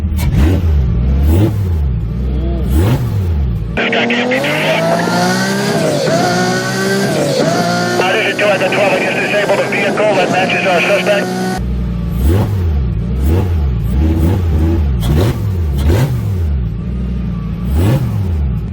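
A tuned Lamborghini engine revs hard through a freshly modified intake, a loud rising and falling roar in the middle of the clip, with quieter idling and people talking before and after.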